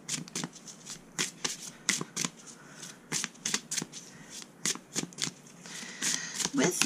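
A deck of tarot cards is shuffled by hand in repeated crisp riffling bursts, close and fairly quiet, with short gaps between the shuffles.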